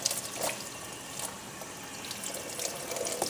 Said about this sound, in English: And what we want to do is rinse it off.